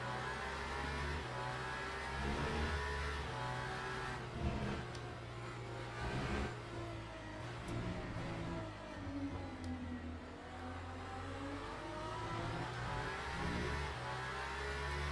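Steady mid-pitched engine drone of the Iron Dames Porsche race car in Le Mans Ultimate, a continuous hum with slight rises and falls in revs, heard alone without talk.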